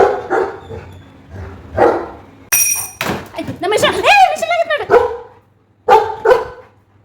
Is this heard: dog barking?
yes